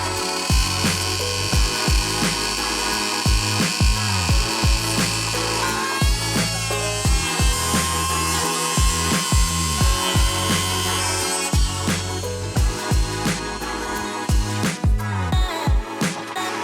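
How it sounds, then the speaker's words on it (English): Cordless Milwaukee router trimming the edge of a wooden charcuterie board, a loud continuous high-pitched whine with rhythmic dips and surges as the bit passes along the wood, close and with no talk. "we're going to test this router by doing some edge trimming on that charcuterie board"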